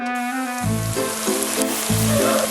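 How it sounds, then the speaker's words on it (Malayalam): Water splashed into hot cooking oil sets off a loud, continuous sizzle and crackle that runs through the whole moment, with steady tonal background music underneath. "വെള്ളം ചൂടുള്ള എണ്ണയുമായിട്ട് കോൺടാക്റ്റിൽ വരുന്ന സമയത്ത് പെട്ടെന്ന് തന്നെ നീരാവിയായിട്ട് മാറും"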